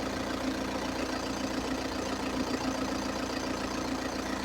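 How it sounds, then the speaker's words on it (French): A steady diesel engine idle from a 2011 Audi A3 2.0 TDI 140 drones on with an even low rumble and faint rhythmic ticking, no voices, constant in level throughout. "je vais vérifier un moteur tournant"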